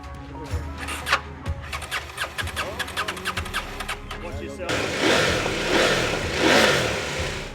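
A Husqvarna Norden motorcycle cranks with a rapid, rhythmic stutter for several seconds before it catches, then runs and revs loudly, with voices faintly in the background.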